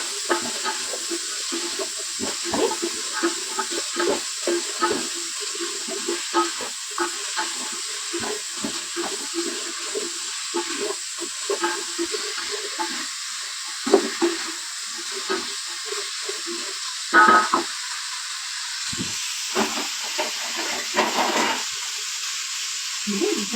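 Vegetables with tomato and salt sizzle in a pan while cooking paneer pulao, a steady close hiss with scattered stirring clinks and faint scraping throughout.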